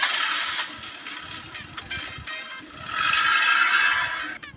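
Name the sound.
car engine starting in a cartoon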